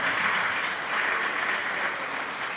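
An audience applauds steadily at a political talk in Armenia, a dense, even wash of clapping that holds at the same level throughout without pause.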